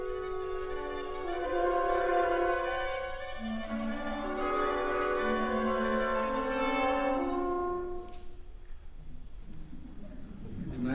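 An orchestra plays sustained, wavering wind and string notes that mimic bleating sheep in Don Quixote, thinning out near the end into quieter, scattered sounds.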